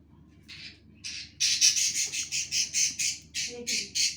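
A pet bird perched on a hand gives a run of loud, harsh squawks that repeat in a steady rhythm close by. A low room hum sits underneath.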